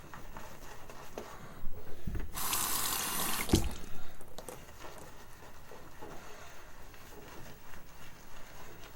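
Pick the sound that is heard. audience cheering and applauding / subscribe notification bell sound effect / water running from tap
water running from tap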